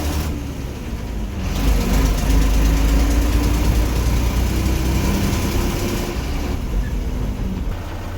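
A KSRTC bus on the Madikeri–Madurai route rumbles as it pulls away, its heavy diesel engine swelling to a steady, loud drone close by, then easing slightly as it moves off.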